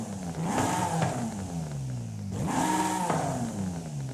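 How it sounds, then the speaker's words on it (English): A car in Forza Horizon 5 revs hard twice, each pull climbing in pitch through the gears and then dropping away, a loud exhaust note heard with no talk over it. "let's hear the exhaust."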